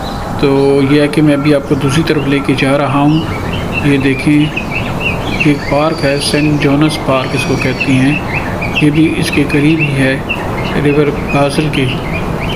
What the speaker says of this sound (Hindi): आपको परिंदों की आवाज़ें भी बहुत ज़्यादा सुनाई दे रही हैं।